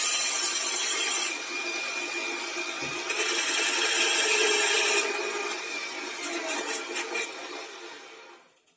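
A homemade cutting machine driven by a small can motor spins its blade cutter with a close, high whirring buzz that rises and falls in intensity over several seconds, then sputters in short bursts and winds down, with no one speaking.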